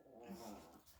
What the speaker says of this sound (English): off goes the dog down the corridor every time I do a video.